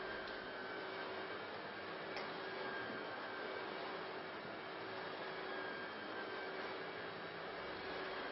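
A vacuum cleaner runs continuously with a steady, loud, even whooshing whir that holds without pause from start to finish.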